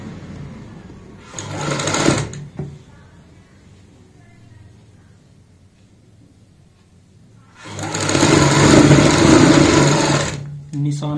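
A sewing machine stitches a folded fabric strip about 2 inches wide onto a child's frock, running in two loud bursts, a short one early and a longer one near the end, with quiet pauses between.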